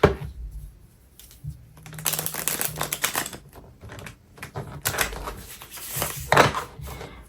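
A deck of tarot cards being shuffled by hand, giving bursts of crisp riffling and flapping clicks separated by short pauses, close and fairly quiet.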